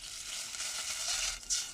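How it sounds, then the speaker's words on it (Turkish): Steady hot sizzling and hissing as 250 millilitres of water hits hot melted margarine, a continuous crackling spatter with a brief louder burst near the end. "şu an içerisine 250 mililitre suyumu ekliyorum"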